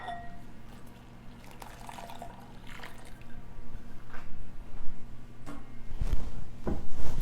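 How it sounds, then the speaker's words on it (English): Hot water poured into a bowl of jello mix in a home kitchen, a soft liquid splash that builds and grows louder toward the end, with some knocking handling noises and no talk. "And to that, I'm going to add 2 cups of hot water."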